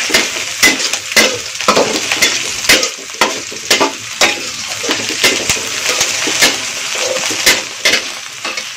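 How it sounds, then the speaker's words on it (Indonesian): Onions sautéing in a pan, loud continuous sizzling with rhythmic scraping and stirring strokes against the pan roughly every half second. "Kita tumis bawangnya dulu."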